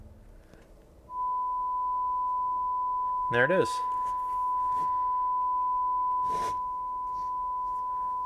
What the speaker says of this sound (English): I'm going to start with a 1 kHz sine wave.